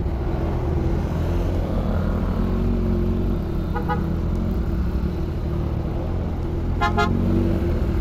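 Car horns honk in heavy traffic near Quiapo Church, two short blasts, one around the middle and one near the end, over a steady rumble of engines and road noise.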